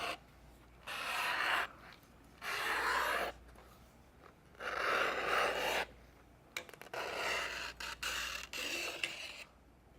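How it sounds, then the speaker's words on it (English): Strap cutter slicing 4 to 5 ounce leather into strips, several close rasping pulls of a second or two each, separated by pauses, followed by shorter scraping strokes and clicks, with no talking. "I find it very easy to cut using the strap cutter."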